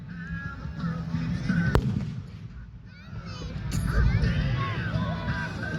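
Fireworks going off at an outdoor show, with a sharp bang near the two-second mark and rumbling bursts throughout, under steady crowd noise and nearby voices.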